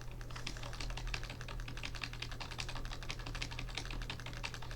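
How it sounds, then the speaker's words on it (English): Rapid, dense clicking of a computer keyboard and mouse, steady and continuous at close range over a constant low hum, with no voices. "Sorry, there's intensive clicking."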